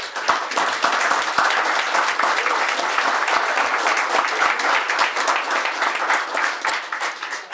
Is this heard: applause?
yes